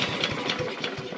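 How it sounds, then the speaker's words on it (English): A gas-powered walk-behind lawn mower engine sputtering to life on a second pull, close and fairly loud, with rhythmic uneven firing pulses before settling toward a rough idle. "I ran the lawnmower for all of 30 seconds and Big Walt's already moseying his way"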